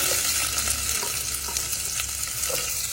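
Steady sizzling of seeds spluttering in hot oil, with scattered sharp pops and crackles over a continuous frying hiss, close up and fairly loud.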